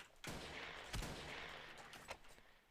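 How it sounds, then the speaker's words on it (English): Distant rapid gunfire in the game Ace of Spades crackles in bursts, several sharp reports popping over a steady background rumble. "I hear gunfire."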